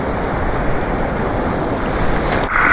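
Loud, continuous ocean surf roaring close by, with heavy strong waves crashing and wind buffeting the microphone throughout.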